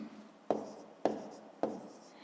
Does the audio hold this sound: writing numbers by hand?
yes